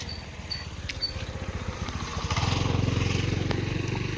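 A motorcycle engine putters at idle with a rapid, even thumping pulse, then revs up louder and smoother partway through, close by.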